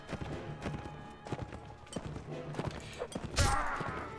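Horse hooves clopping on a battlefield in Mount and Blade Warband, a series of soft irregular thuds under game ambience, ending in a louder crash-like burst.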